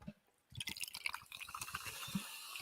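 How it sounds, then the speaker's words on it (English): Liquor poured from a bottle into a glass up close, a quick clink then a steady glugging, splashing stream that fills for about two seconds, with no voices. "let me pour a drink first"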